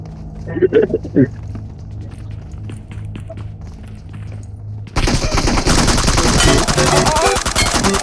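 In a PUBG match, a few scattered shots and excited shouting give way to a loud, sustained burst of rapid automatic gunfire lasting several seconds.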